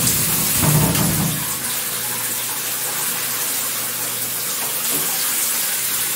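Water running steadily from an electric shower, a loud continuous hissing spray that stays even for the whole clip, with a brief low rumble near the start.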